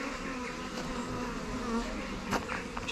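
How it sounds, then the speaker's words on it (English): A honeybee swarm clustered in a tree makes a dense, continuous buzzing close at hand, a steady droning hum with individual bees whizzing past now and then, with no voices. "so now we just need to get the rest of the bees out the tree into the Skep"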